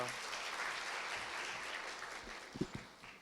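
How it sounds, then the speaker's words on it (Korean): Steady applause from a church congregation at a sending service fills the room, tapering slightly toward the end with a few louder thumps. "우리 송도 목장 박수로 환영해 주시기 바랍니다"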